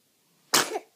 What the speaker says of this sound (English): Did you like to sneeze?